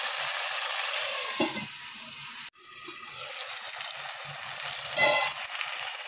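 Bitter gourd stir-fry with jaggery cooks in a pan with a steady, close sizzle and hiss that drops out briefly midway, then resumes and swells slightly near the end. No one speaks.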